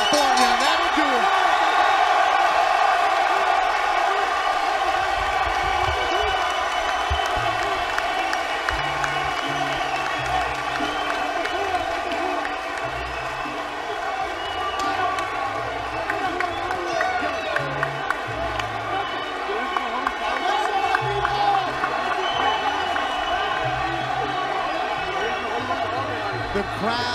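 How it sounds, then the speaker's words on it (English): A boxing arena crowd in Carson, California cheering and applauding after a hard-fought bout, a dense sustained roar with whoops and claps, while commentators talk over it. "Still cheering, standing up."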